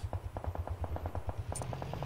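Rapid bursts of PUBG Mobile gunfire during a tournament, quick repeated shots in a fast rhythm over a low electronic hum.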